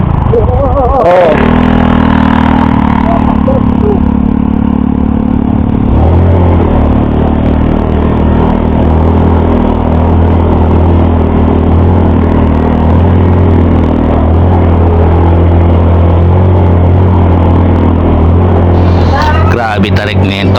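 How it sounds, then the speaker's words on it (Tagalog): A Honda Click scooter carrying a passenger strains up a steep, rough mountain road between Aguilar, Pangasinan and Zambales, its engine droning loudly and continuously with rattling from the bike, while a rider talks over it. "Akala ko hindi kakayanin ng click natin at may angkas pa tayo."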